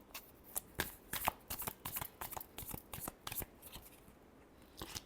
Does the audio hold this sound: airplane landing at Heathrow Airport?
no